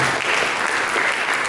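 Church congregation applauding for Jesus during a sermon, a dense, even burst of clapping filling the whole moment with no voices over it.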